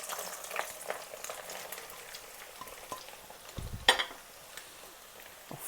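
Pieces of beef sizzle in hot oil in a pan while cooking a traditional village-style beef pickle, a soft, steady crackle and spatter with a sharper pop near the middle and no talking.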